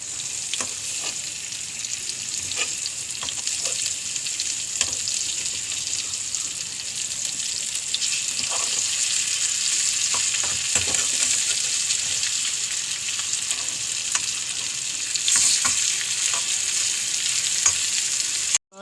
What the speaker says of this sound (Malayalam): മീൻ വറക്കാട്ടുണ്ട്. നമുക്കത് മറിച്ചിടാം.